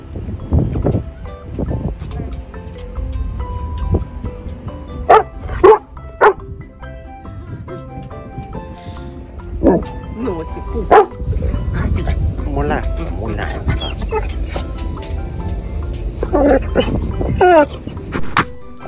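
A dog barks and yips repeatedly on a ferry deck amid a voice talking and the steady rumble of the boat engine.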